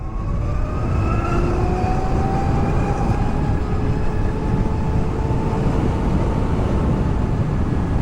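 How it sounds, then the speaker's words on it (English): An electric bike accelerating as the throttle is wound on, a steady rising whine with several climbing tonal lines over broad rumbling road and wind noise, continuous and fairly loud throughout. "And then you just wind the throttle on and away you go."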